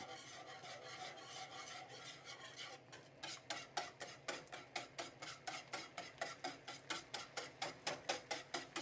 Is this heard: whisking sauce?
yes